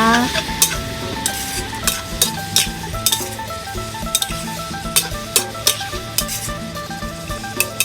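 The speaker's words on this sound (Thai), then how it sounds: "แล้วก็ผัดคลุกเคล้าให้เข้ากันนะคะ" Food stir-fries in a pan with a little sweet soy sauce, steady sizzling broken by frequent sharp metallic clinks and scrapes of the utensil against the pan, close and loud.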